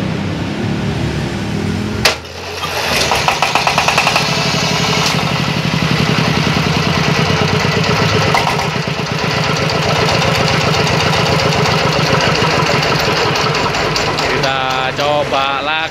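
A small diesel engine fitted with a recoil starter catches after a sharp pull, then runs in a loud, steady, rapid thumping idle close by for over ten seconds.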